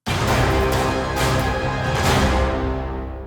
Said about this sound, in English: So sometimes I'll have those low brass horns.